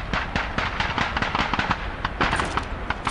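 Rapid rifle fire at a Red Army training shooting range in Call of Duty 2, with sharp, evenly spaced cracks that follow each other over a steady background din.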